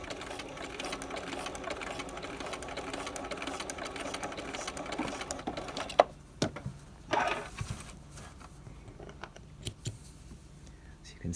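A sewing machine stitches piping at the corner of a V-neck, running in a quiet steady whirr for about six seconds, then stopping and restarting in a few short bursts separated by clicks and handling noise.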